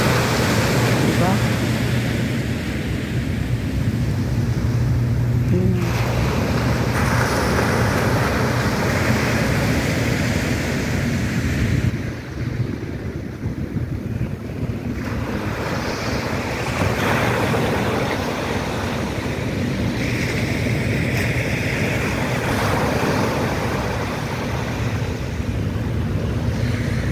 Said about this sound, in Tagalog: ngayon ko lang naririnig ang ano, ang hampas ng alon dito